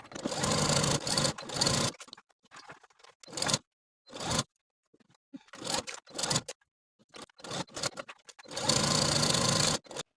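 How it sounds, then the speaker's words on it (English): Sewing machine stitching a facing onto a bias-cut jacket, loud bursts of rapid needle chatter broken by short pauses while the fabric is pivoted at the corners, ending in a long steady run. "stop your stitching, pivot your fabric with your needle still inside, and then continue your stitching all the way around."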